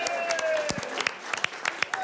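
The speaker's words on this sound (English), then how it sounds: "Round of applause for these guys here." A studio audience applauds on a panel show set, with scattered sharp claps standing out over a steady background of clapping and a faint tonal hum.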